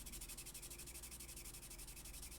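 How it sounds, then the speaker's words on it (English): Rapid rhythmic sanding strokes on a plastic model kit part, a fast repeating scratchy rasp, close and quiet, with no talking. "So do a little surface sanding"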